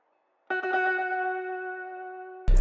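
A melodic electric guitar fill, a counter-melody processed with Echo Boy and RC20 effects, enters after a brief silence as sustained, chorused and echoing notes, then cuts off abruptly into a loud burst at the end.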